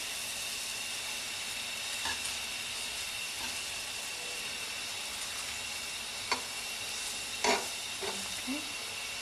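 Buttered paratha sizzles in a pan with a steady, soft frying hiss, broken by a few faint clicks and scrapes of handling, heard close and alone.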